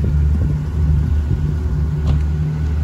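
A convertible Pagani Zonda F driving on a mountain road near Mont Blanc, heard as a loud, steady engine rumble with a deep low drone, the car passing close throughout.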